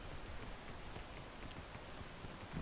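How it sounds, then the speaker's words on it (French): Steady rain pours in a video game, a dense even hiss of drops running unbroken and fairly close throughout, with no voices over it. "Je vois rien avec la pluie."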